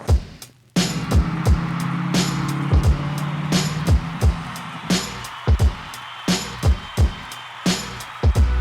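An old BMW X3 with a missing lug nut drives on the highway: a loud, steady engine and road drone with repeated rhythmic thumps and knocks from the car, close inside the cabin.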